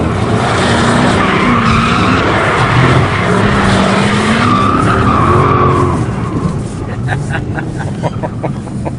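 A 370-horsepower car sliding on a wet track with stability control switched off, engine roaring loudly and steadily with rising and falling revs and a brief tire squeal, while a voice talks over it.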